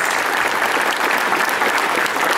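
An audience at a convention panel claps steadily in a dense, even burst of applause with no voices above it.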